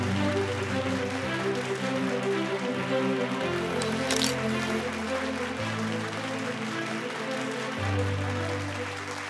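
An awards-ceremony audience gives a big round of applause, a dense, continuous wash of clapping that carries on over loud, sustained background music for several seconds.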